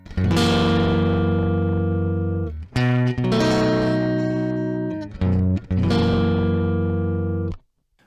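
A tube guitar amp recorded direct through a Harley Benton attenuator with no cabinet gives a harsh, buzzy distorted tone. Sustained chords ring out in several bursts with short gaps between them.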